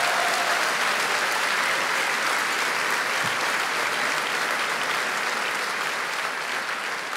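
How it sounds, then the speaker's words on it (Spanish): A church congregation applauding strongly for the Lord during a sermon, a dense, even wash of clapping that holds at a constant level from start to finish. "Que alguien le dé un aplauso fuerte al Señor."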